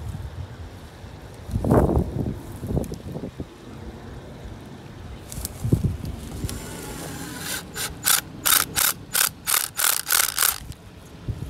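Trap fixture being screwed into a tree on a coyote snare trapline outdoors, ending in a run of rhythmic ratcheting clicks after scattered knocks and handling noises, close and fairly loud.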